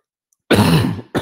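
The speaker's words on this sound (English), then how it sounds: "I got a little bit of a coughing fit here." A harsh throat clearing and cough burst after a moment of silence, then a second cough starting at the end.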